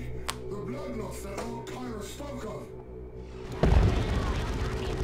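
Land Raider tank opening fire in Dawn of War II: Retribution, a loud booming blast that bursts in suddenly after a stretch of busy battle sounds with voices, then rumbles on.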